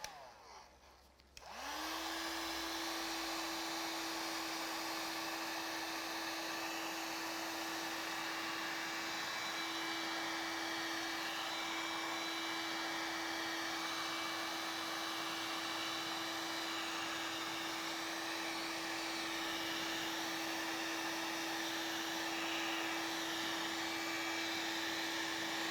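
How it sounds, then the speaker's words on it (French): A hair dryer switches on with a click and then blows steadily onto freshly poured paint, a constant, close whirring hum with a high whine that holds unchanged for the rest of the stretch. "On va maintenant accélérer la fabrication des cellules avec un coup de sèche-cheveux"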